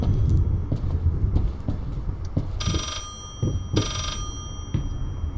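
An old telephone in the video game Layers of Fear rings in two bright, buzzing bursts of about a second each. It sounds slightly distant over low rumbling room noise and scattered footsteps.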